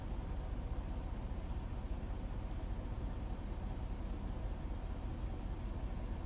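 A multimeter gives a steady high-pitched continuity beep while testing a fuse connection, sounding twice in long tones over a constant loud background hiss.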